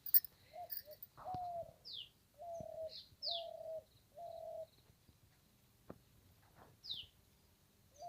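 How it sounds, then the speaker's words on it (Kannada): A spotted dove calls outdoors on a quiet morning, repeating short mellow coos in a spaced rhythm, moderately distant, with a few thin bird chirps in between. "ಬೆಳವ ಕೂಗ್ತಾ ಇದೆ, ಮುತ್ತಿನ ಶೆಟ್ಟಿ ತೊರೆ ತೊರೆ ಅಂತ"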